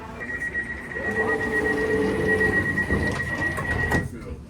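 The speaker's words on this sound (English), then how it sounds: "the train is now ready to depart" A London Underground train pulls away from a crowded platform, a steady electric whine and rising rumble with clattering of the carriages and a sharp knock near the end.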